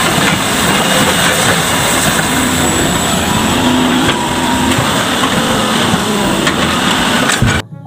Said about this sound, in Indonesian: Wow, ini ekskavator pencapit teman-teman.